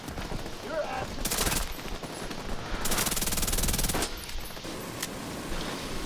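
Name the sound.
gunfire from the video game The Division 2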